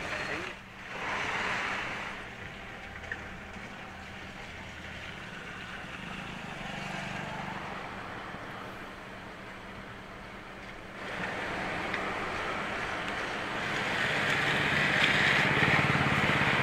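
The swollen Hemavati river, overflowing near a temple in Hassan, rushes past as a continuous broad roar of floodwater. The roar swells louder toward the end, and a voice is heard at times.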